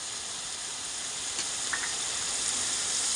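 Garlic paste and ginger paste sizzling in hot oil in a pan, a constant bright hiss that holds steady, with a couple of faint clinks partway through and no talking.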